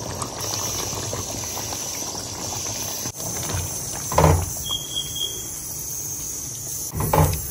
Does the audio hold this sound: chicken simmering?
yes